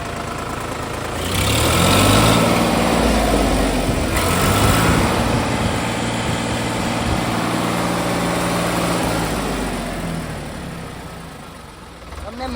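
A lightly used Sonalika tractor engine runs at idle close by, a steady low diesel throb that swells slightly and then settles, with people talking over it.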